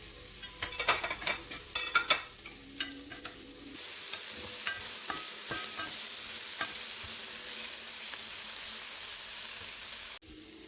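Garlic cloves sautéing in a hot pan, with a steady sizzle after several sharp stirring clatters near the start, loud and close with no talk.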